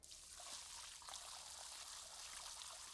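Water poured and splashing around a house in a steady, hissy stream, fairly faint and continuous with no voices over it.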